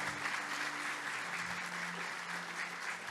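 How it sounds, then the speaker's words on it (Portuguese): A church congregation applauds during a sermon, a soft, even, continuous wash of many clapping hands with a faint low drone beneath. "Você dá uma salva de palmas ao Senhor"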